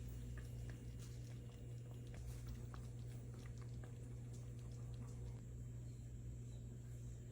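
Blueberry dumplings simmering in a pot give off a steady low bubbling and soft patter, with small pops scattered throughout, close and fairly quiet with no talking.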